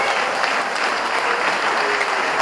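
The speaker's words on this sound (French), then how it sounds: "Je vous demande de les applaudir fortement" An audience at a public talk in Guadeloupe applauds with strong, dense clapping. The sound holds steady and loud throughout, with no voices over it.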